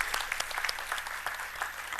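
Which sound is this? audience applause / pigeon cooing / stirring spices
audience applause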